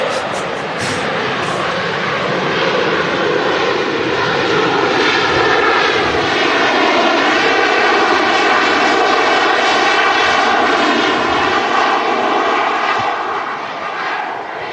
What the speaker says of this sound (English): There we go, we have a Ryanair 737-800, what looks like